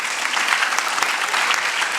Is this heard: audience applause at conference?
yes